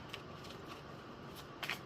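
Tarot cards are shuffled in a soft, steady riffling hiss, faint and close, with a few brighter flicks near the end and no talk.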